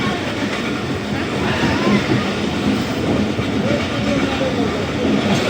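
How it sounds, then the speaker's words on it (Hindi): The 48Dn Rehman Baba passenger train rolls along, a steady rumble with rhythmic wheel clatter heard from inside the carriage, with a voice talking faintly over the noise. "2 मिनट स्टॉप के बाद गाड़ी रवाना हुई हमारी पनो आकिल कैंट से"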